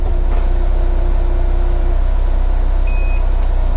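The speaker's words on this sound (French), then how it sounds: "Le toit fait un peu de bruit quand il est en manœuvre" A steady mechanical whir and hum of a Peugeot 206 CC's convertible roof motor running, with a brief high electronic beep near the end.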